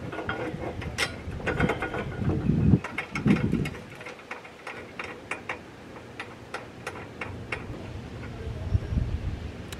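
A ratchet works on a brake bolt of a Nissan S13 during a brake job, with quick clicking runs, metallic taps and clanks of tools nearby, and a few louder handling bumps early on.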